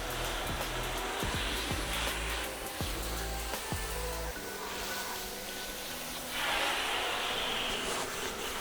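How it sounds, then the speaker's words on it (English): A garden hose sprayer and a pressure washer rinsing a car, giving a loud continuous hiss and roar of spraying water that shifts in tone partway through, with a few knocks early on. "Starting with the hose, I'll rinse from here forward, and we'll let Will rinse from here back with the pressure washer"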